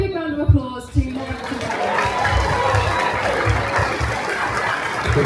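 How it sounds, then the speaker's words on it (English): A crowd at a theme park event bursts into a round of applause after a voice, swelling into sustained clapping mixed with chatter and a few cheers. "Can we give a big round of applause to Laura?"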